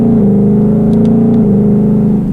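A 2018 Ford Mustang GT Premium's V8 pulls hard under acceleration, a loud, steady, throaty engine drone heard from inside the car that shifts slightly in pitch partway through.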